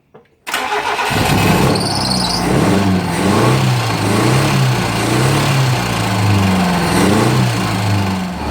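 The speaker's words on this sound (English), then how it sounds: "The exhaust has sort of partly destroyed itself, so it's going to be quite noisy" A small engine with a partly destroyed exhaust starts abruptly and runs roughly and loudly, its uneven pulsing drone wavering up and down in pitch, close to the microphone.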